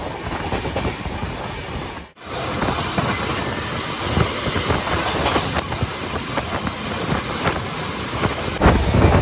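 A moving passenger train on the Santiniketan route rumbles and clatters steadily from inside the carriage, a loud continuous roar with rattling wheels and a momentary dip partway through.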